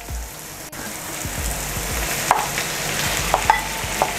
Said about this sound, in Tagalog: now lalagyan natin ng pork giniling.